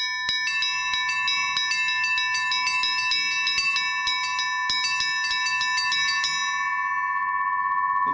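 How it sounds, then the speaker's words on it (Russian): Cast bronze church bells from the Litex foundry in Moscow and the Shuvalov foundry in Tutaev strike in a bright, rhythmic peal of overlapping tones, then one clear bell rings out and sustains, loud and close. "второй колокол."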